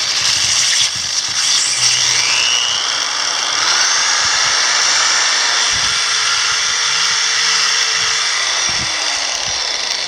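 A drill spins a slotted rod wrapped in paper inside a Silverado spring shackle bore, giving a steady, close high-pitched whine that holds for the whole stretch with faint rattles beneath.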